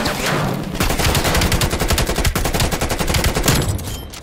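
Sustained full-auto fire from a Krig 6 rifle in Black Ops Cold War, a rapid, loud, evenly spaced stream of shots running nearly nonstop through the whole stretch.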